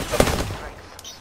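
Gunfire in Apex Legends, a quick close burst of shots at the start that trails off within about a second, with a voice nearby.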